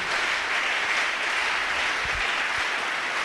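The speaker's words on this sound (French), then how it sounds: "Acclamez très fort parce que c'est la vérité" A church congregation applauds loudly and steadily, a dense wash of many hands clapping with no pause, filling the hall for a few seconds.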